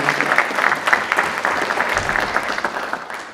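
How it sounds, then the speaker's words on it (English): A graduation audience at a Microsoft Africa Development Center Cyber Shujaa ceremony breaks into sustained applause, with many hands clapping in a dense, even patter that fades slightly toward the end. "So let's give ourselves a round of applause for making it all the way here today."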